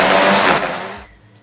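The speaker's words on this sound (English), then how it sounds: "so we're gonna whisk it up" Red chipotle adobo sauce is whisked or blended with a loud, steady motorized whir up close, cutting off after about a second into quiet room noise.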